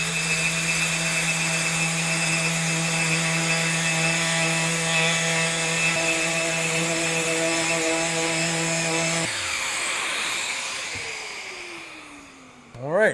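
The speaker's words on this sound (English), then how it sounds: "Now we're going to come with the sander." A power sander runs continuously on a wooden plug, giving a steady buzzing whine with strong even tones, then winds down near the end as the motor slows to a stop.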